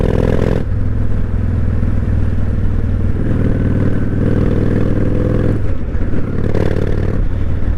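A 1998 Honda Shadow 1100 motorcycle engine drones loudly and steadily while being ridden, with a deep low rumble that shifts in pitch as the throttle changes, plus wind and road noise throughout.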